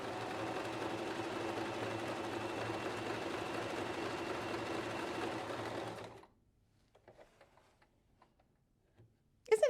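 A bernette b33/b35 sewing machine runs steadily for about six seconds, stitching decorative patterns with a fast, even mechanical whir and tick. It then stops, leaving near silence and a few faint clicks.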